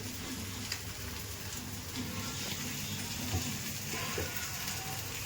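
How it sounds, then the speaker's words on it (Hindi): Water spills and splashes from an overfilled kitchen water filter, a steady soft hiss and patter that runs continuously and quietly without any talk. "मेरा फिल्टर भर गया, देखो पानी गिरने लग गया।"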